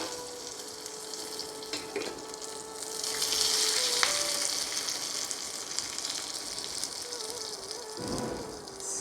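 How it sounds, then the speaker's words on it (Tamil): Curry leaves drop into hot oil and crackle in a bright, steady sizzle that swells briefly and then settles, close up, with a faint background hum and a soft clunk near the end. "கொஞ்சம் தணல் அடங்கின உடனே இந்த கருவேப்பிலை போட்டோன்னா நம்ம மேலே செதறாமல் இருக்கும்"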